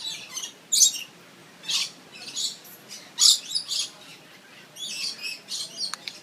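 Parrots being hand-fed on St. Thomas give sharp high chirps and squawks in scattered bursts, fairly close, over a quiet background with no speech.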